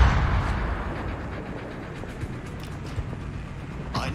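Naval gunfire rumbles through a World of Warships battle, a dense low booming bed with a few sharper reports near the end, continuous and fairly loud without speech.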